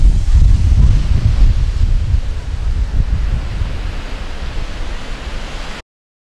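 Ocean waves wash in and out at a beach in Canggu, Bali, a loud, steady roar of surf with wind buffeting the microphone, slowly easing off before cutting out.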